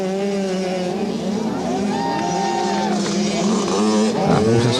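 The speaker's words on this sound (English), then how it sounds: "You can hear these sort of wasp-like drone in the background, these high-revving little 85cc machines" Several high-revving 85cc racing motorbikes at a solo beach race whine and rise in pitch as they accelerate, a continuous wasp-like drone from a few engines at moderate distance.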